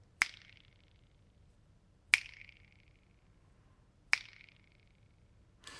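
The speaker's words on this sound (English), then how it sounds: "I'll snap my fingers again, and now you should be able to hear that echo from both sides" Three sharp finger snaps about two seconds apart ring out in a quiet room, each followed by a fluttering echo that rattles back and forth between the walls before decaying, with a fainter fourth snap at the end.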